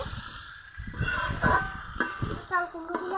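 Ash gourd and green chilli sauté in a pan, with stirring scrapes and a soft sizzle in uneven bursts. A voice talks over part of it.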